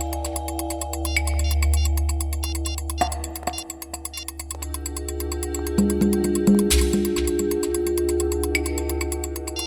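A phone ringtone repeats in steady pulses over a low continuous hum, a beeping call tone that breaks off partway and then resumes, with no voices.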